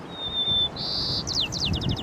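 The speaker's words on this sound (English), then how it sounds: "bird singing has filled the space left by empty noise and pollution" Small birds sing close by, a thin sustained whistle followed by a buzzy trill and a run of quick descending chirps over a soft outdoor background.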